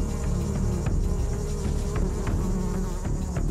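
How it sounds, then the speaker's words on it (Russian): Flies buzz steadily around a carcass in the Greek wilds, a close, continuous droning hum with small fluctuations and no voices. "И их вонь привлекает мух."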